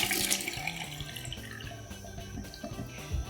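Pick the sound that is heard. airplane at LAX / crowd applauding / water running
water running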